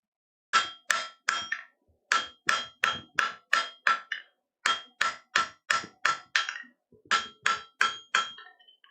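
A hammer strikes repeatedly in quick clusters of sharp, ringing blows, about twenty hits spread across the stretch with short pauses between groups, loud and close with no talk over it.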